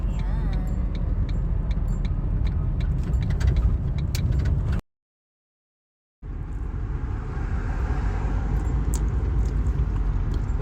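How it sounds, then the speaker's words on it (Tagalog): Steady engine rumble and road noise of a car heard from inside the cabin at night, loud and continuous, broken by a brief cut to silence before resuming. "Dito na ako sa sasakyan."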